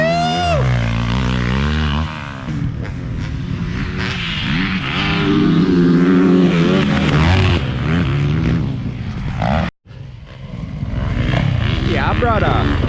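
Motorcycle engine revving hard on a ride, rising and falling pitch sweeps close and loud, with a brief cut-out before the engine picks up again; people talk over it.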